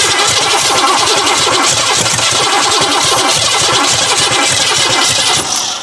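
A Cadillac V8 with a distributor and single-point throttle-body injection runs loud and close after starting. Its rough, steady idle rumbles continuously and drops slightly at the very end.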